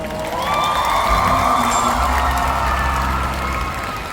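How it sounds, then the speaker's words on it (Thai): A loud crowd cheers and claps continuously after a drum solo, with shouts and whoops rising over the steady wash of applause. "ขอเสียงปรบมือ"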